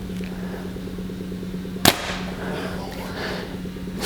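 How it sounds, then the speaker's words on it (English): A Prime Black 3 compound bow with 70-pound limbs and a 30-inch draw shoots an arrow through a chronograph, giving a single sharp snap close by over a steady low hum. "we are going to shoot the black 3 through the chrono, see how fast this one's shooting"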